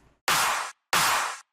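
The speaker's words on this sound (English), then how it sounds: "Also, all these claps are just very lightly processed." Two layered electronic clap samples, lightly processed, fire one after the other at an even spacing, each a loud, bright, noisy burst with a short tail, with nothing else sounding.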